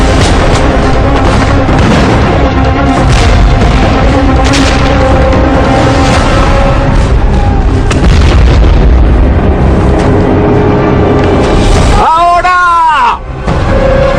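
Gunfire and hand grenade explosions fill a battle reenactment, a dense, loud, continuous roar of blasts and booms with shouting voices mixed in, closing with a brief whooping shout.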